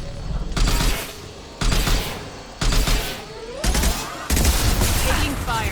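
Gunfire in the Mass Effect 2 video game, rendered as several loud bursts of rapid shots repeating roughly every second, with game sounds and battle chatter layered between the volleys.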